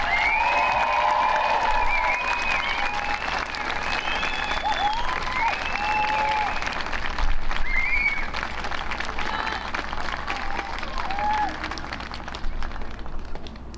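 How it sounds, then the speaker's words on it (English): Sustained applause from an audience honoring graduates at an adult diploma program graduation ceremony, a steady dense wash of clapping lasting the whole stretch with faint cheers and voices mixed in. "I'd like to ask everyone here to give the graduates a huge round of applause"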